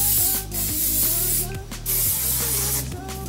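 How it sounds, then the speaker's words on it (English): Several close bursts of hairspray hiss loudly from a can onto straightened natural hair, the sprays separated by brief pauses, with a faint mechanical hum underneath. "so I'm gonna go ahead and spray it with my"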